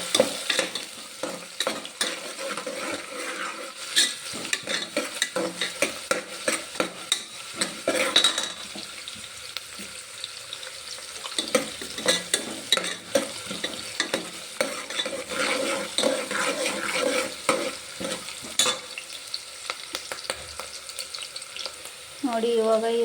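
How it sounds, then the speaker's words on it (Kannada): Chopped onions stirred and frying in a pan for masala rice, with a continuous low sizzle broken by repeated scraping and clinking of a spoon against the pan, close up and without talk. "ಇದನ್ನು ಕಟ್ ಮಾಡಿರೋಂಥ ಉಳ್ಳಿಗಡ್ಡೆಯನ್ನು ಒಂದು ಸ್ವಲ್ಪ ಹಾಕ್ಕೊಳ್ತಾ ಇದ್ದೀನಿ"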